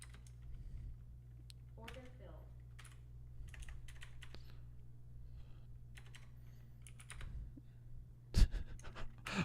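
Typing on a computer keyboard during a live trading session, a steady scatter of soft clicks over a constant low hum, with a louder burst of keystrokes near the end.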